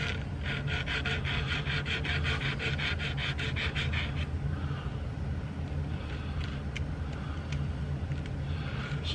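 Circular hand sanding with coarse-to-fine sandpaper, heard as a continuous close rubbing rasp with quick rhythmic strokes at first, settling into steadier scrubbing.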